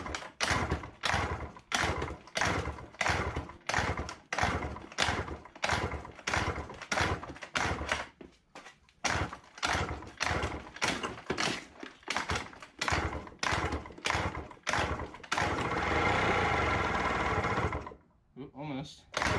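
A Honda Spree scooter revived after four years of sitting is cranked repeatedly, trying to start: a steady run of rhythmic mechanical chugging pulses, close and loud, briefly turning into a continuous rough run before cutting off.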